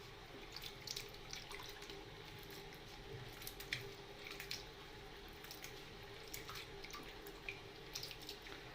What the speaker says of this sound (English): wash the flower heads one more time in the plain water